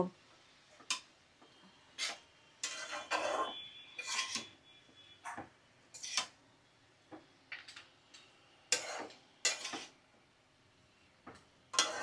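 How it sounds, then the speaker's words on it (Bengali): A spatula stirring cabbage with spices and potatoes in a cooking pan, giving repeated short scraping and clinking strokes at an irregular pace, close and clear with no talk. "এখন চলো ভালো করে নাড়াচাড়া করে মশলার সাথে বাঁধাকপিটা আমি মিশিয়ে নিই"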